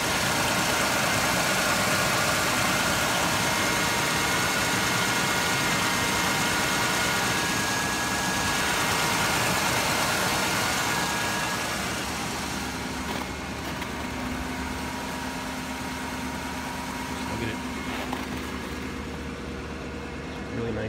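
A 1979 Buick Regal engine idles steadily after a cold start, a loud continuous rumble heard close up that eases slightly in level partway through.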